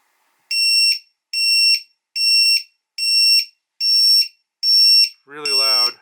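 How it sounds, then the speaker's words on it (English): An Eachine Wizard X220HV 6S drone sounds its lost-model alarm as six loud, shrill, evenly spaced beeps close by, followed by a brief voice at the end. "if you just let it sit here, it'll just start beeping as if you've crashed or something."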